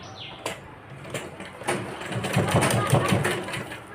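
A domestic sewing machine runs edge stitching along a girl's skirt, a soft rhythmic whirring chatter that builds over the last couple of seconds, with someone talking over it.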